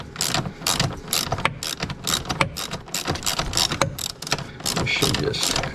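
Quick clicking bursts from a hand ratchet working a bolt loose on a warm car engine during a purge valve replacement, close and irregular, with brief low mutters between strokes.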